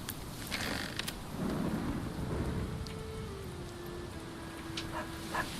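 Steady rain pours with rolling thunder in the medieval city-building game Manor Lords, a continuous wash of downpour under low rumbles, with a faint held musical tone running beneath.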